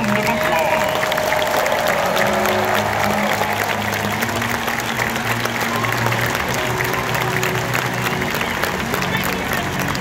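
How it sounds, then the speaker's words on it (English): A big stadium crowd at a University of Michigan football pregame against Arkansas State applauds past champions, a steady, loud wash of clapping and crowd roar that holds evenly throughout, with faint sustained tones beneath. "round of applause."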